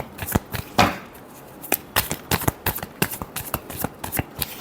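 Tarot cards being shuffled by hand in a run of crisp riffling bursts and soft slaps, close and fairly loud, with no voice.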